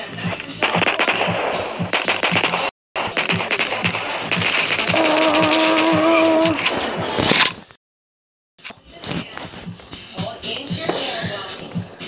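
Rapid video-game gunfire crackles in dense bursts, broken by two brief silent gaps, with a short tonal effect midway. It comes from a first-person shooter match where a player lands a headshot.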